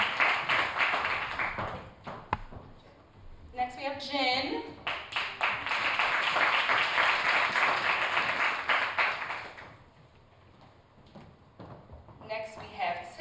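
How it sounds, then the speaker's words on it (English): An audience at a women's panel claps in several bursts between announcements, the applause swelling loud for a few seconds and fading, while someone speaks over parts of it. "You guys can clap."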